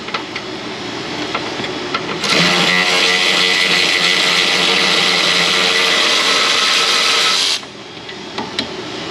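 Electric ratchet spinning a bolt out on a 2010 Honda Civic 1.3 CVT Hybrid, one continuous whirring burst of about five seconds, close and loud over quiet workshop background.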